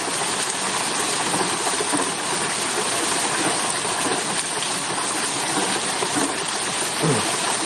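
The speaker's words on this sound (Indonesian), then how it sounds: "ini aliran sungai ya, aliran sungai" A river stream flows in a steady, broadband rush of moving water, continuous and fairly even throughout, with no voices.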